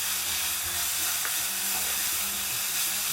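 Grated coconut being stirred with jaggery syrup in a pan for modakam, a steady close sizzle with soft scraping strokes running throughout, no voices.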